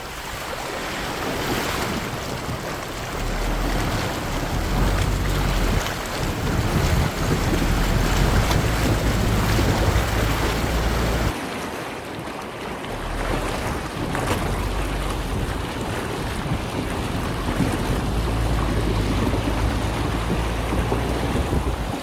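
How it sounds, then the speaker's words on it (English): A vehicle fords a knee-deep water crossing on an outback track near Lake Argyle, with a loud, continuous rushing of water and wind-like roar throughout, and a brief shift in the wash partway through. "That was the deepest one we've been through so far, water crossing."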